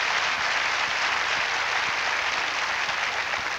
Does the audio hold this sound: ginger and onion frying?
no